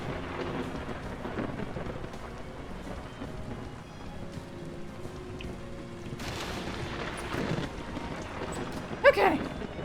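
Rain falls steadily in a video game while thunder rumbles, building to a loud crack near the end; a voice is heard faintly over the storm.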